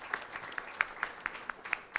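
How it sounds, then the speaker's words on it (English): Sparse applause from a small audience at a venture capital panel at Startup Asia Bangalore 2014, with individual claps heard distinctly in a quiet room, fairly faint. "So let's give them a round of applause."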